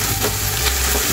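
Oyster sauce hitting a hot frying pan, giving a steady close sizzle with a stirring scrape that runs without pause through the whole short moment, no voices.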